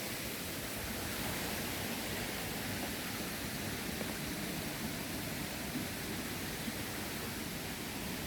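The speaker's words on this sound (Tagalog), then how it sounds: "Uy, may sapa diri." Steady broadband rush of a small stream flowing through the Hong Kong Park wetlands, a continuous even wash of water with no voices, fairly close and constant throughout.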